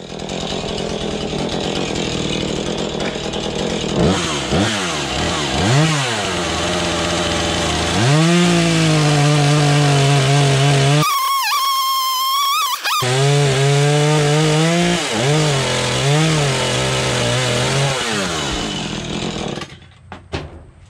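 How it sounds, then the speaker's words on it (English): A chainsaw cuts a wood block for a smallmouth bass carving. The engine runs loud and close, rising and falling in pitch as it bites into the wood and revs again, with a short break partway through. "let's get the chainsaw going and we'll get that going here"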